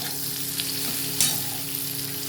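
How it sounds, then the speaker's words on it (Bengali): Okra sizzles steadily in a hot pan as it is stirred and fried for a spicy dish, giving a constant loud frying hiss with occasional scraping stir strokes, with no talk. "আপনারা ভেজে নেবেন ভেজে মানে খুব লাল ভাজা না"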